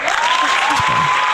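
Studio applause on a French talk show, steady dense clapping with a thin electronic tone running through it and brief faint voices underneath.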